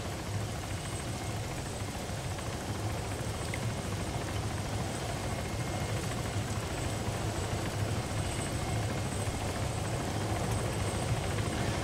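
A helicopter engine in the video game Arma 3 drones steadily and loudly, a constant whirring roar with a thin high whine that holds without change from start to end.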